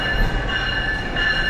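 A GO train at a Toronto station platform during a busy rush hour, giving a steady rumble of rolling rail cars with a thin metallic squeal running through it, close and continuous, with no talk.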